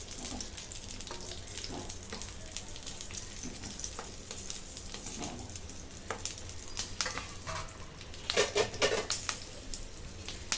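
Green bell pepper chilies roasting in an oiled pan over a low gas flame, giving a steady soft sizzle with scattered metallic scrapes and clinks from stirring, close by, and a busier clatter near the end.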